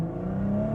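Steady engine drone from a 2023 BMW M440i with an aftermarket exhaust while driving, a low hum slowly rising in pitch as it pulls, heard from inside the car with no talking.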